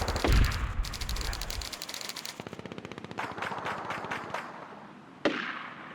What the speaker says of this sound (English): I again love the constant gunfire we hear in the distance